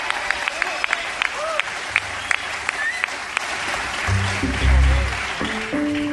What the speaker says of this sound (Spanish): muchas gracias por vuestro calor, vuestros aplausos